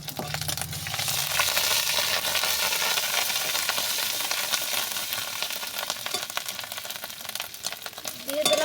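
Ginger paste hits hot oil in a pan for a prawn dish, giving a steady, loud broadband sizzle and crackle that holds throughout with faint stirring scrapes.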